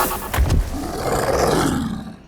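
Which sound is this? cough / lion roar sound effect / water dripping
lion roar sound effect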